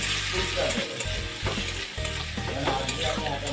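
Spices with chili powder and a little ground chira frying in a pan on a gas flame for a rohu fish curry with amra, a steady close sizzle broken by scraping stirring strokes, loud, with no talking.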